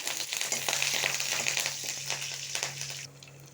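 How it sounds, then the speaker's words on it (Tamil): Curry leaves, mustard seeds, urad dal and dried red chillies sizzle hard in hot oil for a drumstick kootu tempering, a loud close crackling hiss that tapers near the end. "எல்லாம் போட்டு தாளித்து கொட்டிட வேண்டியதுதான்."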